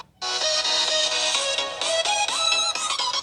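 A Samsung Galaxy S10 Lite phone plays music through its built-in speaker at maximum volume, loud and continuous, with a bright, thin tone and no one speaking.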